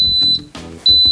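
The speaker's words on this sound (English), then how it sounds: "after a couple of seconds, it will beep letting you know that time is set" An Instant Pot pressure cooker gives short, sharp, high-pitched electronic beeps confirming its cooking time, loud and close, with some handling noise between them.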